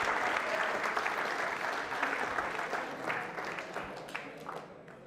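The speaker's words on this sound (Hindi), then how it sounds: "जोरदार बजाइए तालियां।" An audience at a university quiz show applauds loudly after a Bhavai dance mention, a thick, sustained wave of clapping that slowly thins and fades toward the end.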